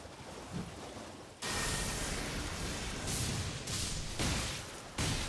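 Steady broadband rain hiss in the video game Elden Ring, with brief surging swells that may be distant thunder rumbles, continuous and fairly loud with no talk.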